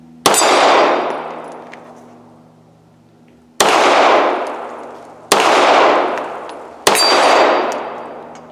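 Four sharp pistol shots from a Girsan Regard MC, a Beretta 92FS clone, crack out at an outdoor range, spaced irregularly with ringing decay after each report.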